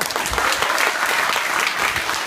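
A large audience breaks into dense, continuous applause, a loud wash of many hands clapping at once with no talking on top.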